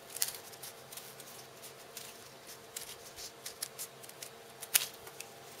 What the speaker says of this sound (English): you're going to take your scissors, and you're going to cut a petal shape.